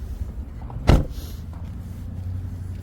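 The hood of a Toyota Prado 120 with a 3.0 diesel engine opens with a single sharp, close thunk and a brief rattle. A quiet, steady background follows.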